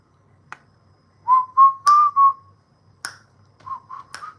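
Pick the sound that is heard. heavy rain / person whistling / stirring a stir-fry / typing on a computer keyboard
person whistling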